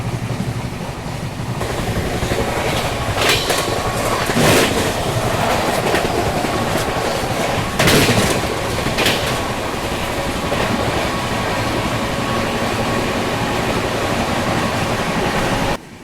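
A Jammu Tavi Humsafar superfast train running on tracks in rain, a loud continuous rumble and rushing roar with faint rhythmic clatter of wheels throughout.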